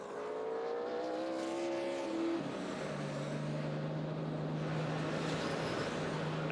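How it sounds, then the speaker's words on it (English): Race cars at the Brickyard 400 NASCAR race; a steady roar of engines, with one pitch dropping as a car passes by, heard at a distance. "Jeff Gordon giving up the lead. He's coming to pit road."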